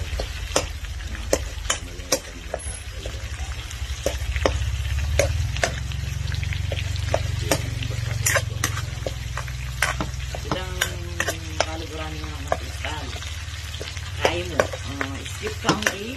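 Tomatoes are crushed with a spatula in a pan of sizzling bitter gourd, giving steady close frying hiss under repeated scraping and stirring clacks.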